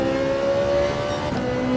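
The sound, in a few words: race car engine in video game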